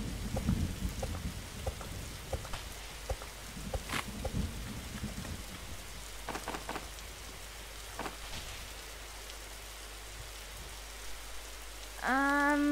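Steady rain pours in the 99 Nights in the Forest survival game, a constant hiss with scattered sharp drop ticks and a distant thunder rumble, then a rising tonal game sound at the end; no voices.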